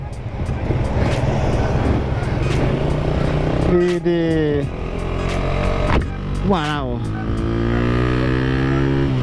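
A Suzuki Satria FU motorcycle engine runs loud and close with a steady throaty drone, rising through a couple of sharp revs that sweep up and settle back, as a rider exclaims briefly.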